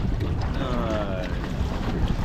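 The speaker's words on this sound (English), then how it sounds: "The wind has really picked up now" Strong wind buffets a fishing boat out on open water, a steady loud roar of gusts and rushing air hitting the microphone throughout.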